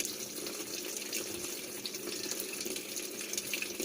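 Water rushes steadily into an automatic washing machine converted to manual use, its inlet switch faulty, giving a continuous loud hiss and splash with no pauses and no talk.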